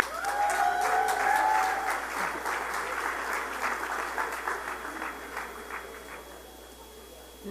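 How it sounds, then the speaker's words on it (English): Conference audience applauding a panel moderator, a loud, dense burst of clapping that swells early and then slowly thins and fades, with a brief tonal whine near the start. "Please give him a round of applause"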